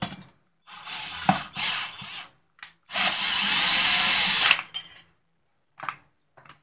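A power tool snugs bolts on an MS660 chainsaw build in a handful of short whirring bursts and one longer run, close up, with quiet pauses between.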